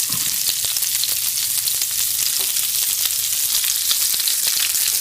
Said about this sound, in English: I'm going to add our sliced onions to the bacon drippings in the pot